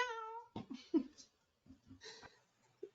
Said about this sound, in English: What is Christy's cat trying to tell us?